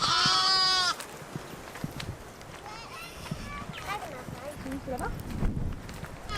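Goats and other livestock penned in a central thorn-fence enclosure in a Maasai village; an opening bleat is followed by scattered calls and shuffling hoof sounds amid outdoor village background.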